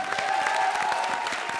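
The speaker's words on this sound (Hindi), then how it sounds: "आज तालियां सिर्फ विकल्प के लिए बजेंगी" Audience on a Hindi television talent show applauds a contestant named Vikalp, with a short, steady wash of clapping and faint crowd cheering beneath.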